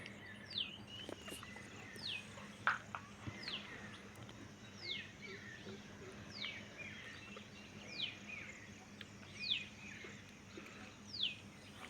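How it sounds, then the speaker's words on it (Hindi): Birds chirp and sing in a village at morning beside farm fields, a series of bright, short calls repeating every second or so at moderate distance over a steady low hum and faint insect buzz. "देखो कितना प्यारा मौसम और चिड़ियाओं की आवाज़।"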